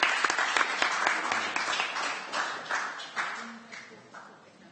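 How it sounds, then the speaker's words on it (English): Council members applaud in the chamber after a vote, with brisk, close clapping that thins and fades over several seconds as a voice speaks over it. "I think we should clap."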